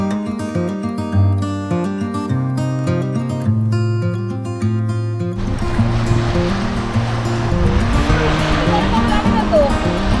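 Waves from Lake Superior wash against the shore on a cold day with strong currents, a broad steady surf rush that swells in the second half, following a stretch of music at the start.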